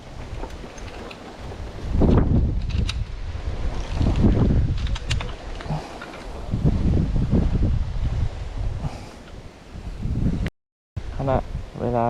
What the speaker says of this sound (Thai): ลมแต่ลมแรงมาก ลมแรงเลยครับ